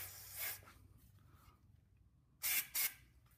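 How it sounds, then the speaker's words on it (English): Brake cleaner sprays into freshly tapped 3/8-18 pipe threads on a Jeep 4.7 stroker engine block, with three short, sharp aerosol bursts close by and quiet pauses between them. "Shoot a little brake cleaner in there."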